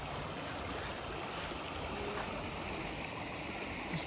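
A small stream with clean water flows beside a pilgrimage path along the Narmada, a steady, soft rushing wash of water heard continuously without talk.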